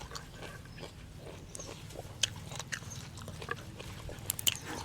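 A crunchy side vegetable is bitten and chewed alongside bamboo shoot soup, with close, irregular crisp crunches and mouth sounds over a low background hum, and no speech.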